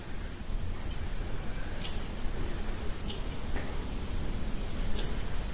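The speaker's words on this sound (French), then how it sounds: "Je vais finir de couper mes petits poils." Scissors snip at a wolf spitz's fur during grooming, trimming the small hairs around the claws, with several faint, brief cuts spread over a steady background hiss.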